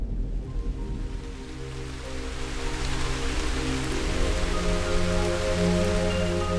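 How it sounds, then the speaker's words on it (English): Steady rain falls in a video game, a continuous soft hiss of drops on surfaces with a faint low tonal bed underneath, no voices. "Alright, it's raining."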